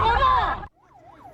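A coast guard boat's siren wails while chasing a Chinese fishing boat off Sinan, Korea: a loud burst masked by voices and noise, then a fainter, cleaner rising-and-falling siren sweep in the background.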